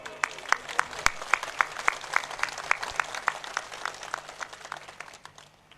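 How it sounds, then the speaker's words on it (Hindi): A crowd at a political office inauguration gives a burst of applause in fairly even, rhythmic claps that hold steady, then thin out and fade toward the end. "तालियों अभिनंदन आज ही कर दो"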